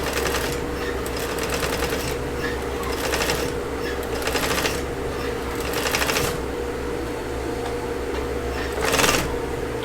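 A sewing machine stitches a gathered puff sleeve in bursts of rapid, close mechanical chatter separated by short pauses, loud and near, with no talk.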